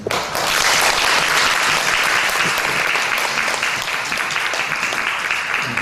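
A congregation at a home church peace gathering in Jinju bursts into loud applause, a thick, sustained roar of many hands clapping that starts abruptly and stays strong throughout, easing only slightly toward the end.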